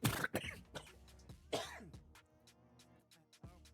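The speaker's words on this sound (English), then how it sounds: "I had to cough" One person coughs close to the microphone, a couple of harsh bursts and a throat-clear, followed by quieter breathy sounds.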